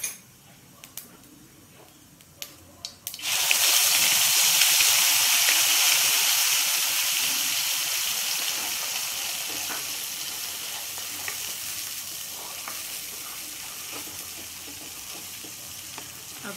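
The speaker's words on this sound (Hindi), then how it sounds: "अब मैं ये लहसुन का पेस्ट डाल दूँगी।" Garlic paste added to a hot pan for spiced okra, bursting into a loud sizzle after a few clinks, then frying steadily and gradually easing, with no talking.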